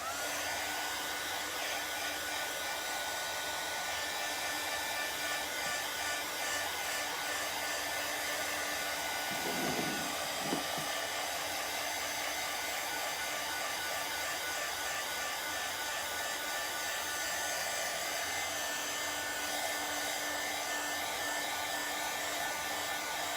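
A hair dryer blows steadily at close range for over twenty seconds, a dense, even roar with only a brief dip in tone partway through and no talking.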